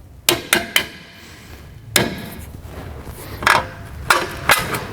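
Metal hammer blows driving a bolt out of a VW Golf MK7 GTI rear sway bar link, several sharp loud strikes spaced irregularly with ringing metallic impacts in a garage.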